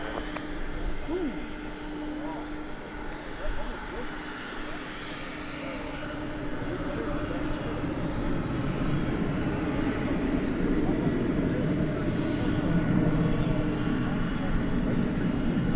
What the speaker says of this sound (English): Let's see how much of this MD we can bring you before we switch over to that.